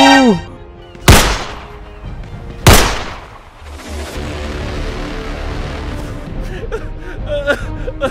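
Two sharp, loud gunshots a second or so apart ring out in the GTA 5 Squid Game mode, followed by a sustained mid-level rumble and scattered game noises, with brief vocal sounds at the start.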